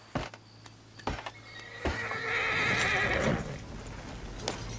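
Horses whinny and neigh loudly in a Western game setting, with a few sharp hoof clops and thumps before a long, rising whinny that dominates the middle.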